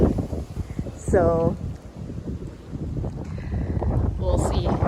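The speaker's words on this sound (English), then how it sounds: "It's just so windy." Strong wind buffets the microphone near Tokyo Tower, a loud rumbling gusty roar throughout, with a voice speaking briefly over it.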